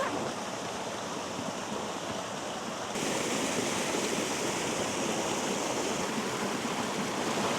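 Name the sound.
small waterfall cascades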